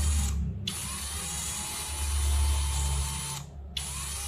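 An AST AS48 power tool at speed setting 1 with the trigger half pressed runs as a steady high-pitched motor whine with a constant tone, briefly cutting out twice.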